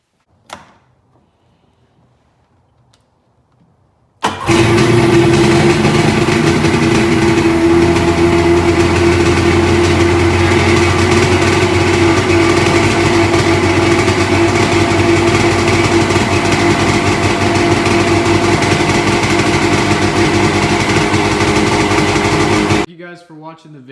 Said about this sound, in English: I'm just going to make sure it fires and prime the lines with more fuel